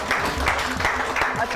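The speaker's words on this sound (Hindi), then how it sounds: "फौजिया के लिए भरपूर तालियां होनी चाहिए।" An audience claps during a Hindi-language television weekend show, a busy patter of hands with faint voices mixed in underneath, steady and fairly close for a short moment.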